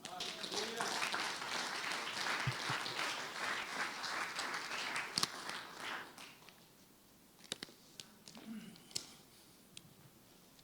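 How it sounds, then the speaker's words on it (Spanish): A church congregation claps and applauds for about six seconds, a broad steady wash of clapping, before it thins into a few scattered claps and taps in a quieter room. "Les pido palmas para el Señor"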